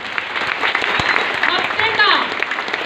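An audience claps together in a steady wash of applause that runs throughout, close and fairly loud, with no voices standing out above it.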